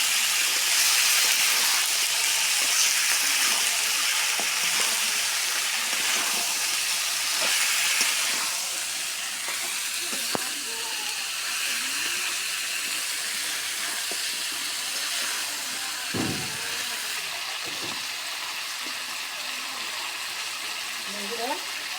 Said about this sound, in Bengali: বন্ধুরা একটু ঢাকা দিয়ে রাখলাম, ঢাকা দিয়ে একটু মশলার সাথে কষে নিব।